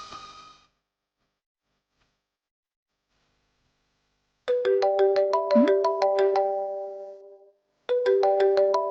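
A phone ringtone plays on an outgoing call in a Telugu TV drama: a short tone, a pause of silence, then a loud melodic electronic ring pattern that repeats, with no talking.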